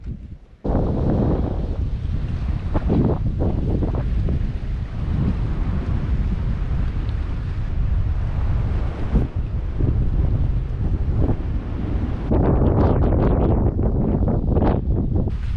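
Strong, continuous coastal wind buffets the microphone with a roaring rumble, steady throughout with occasional gusty surges, on the island of Boa Vista, Cape Verde.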